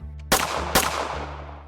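Two sharp gunshots ring out close by, a moment apart, each followed by a fading echo.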